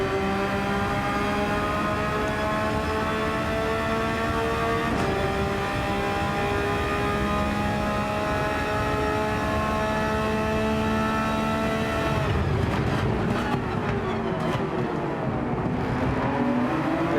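A Porsche racing car engine in a video game, a steady loud high-revving drone held at near-constant pitch, then shifting and wavering as it changes gear near the end, with no talk over it.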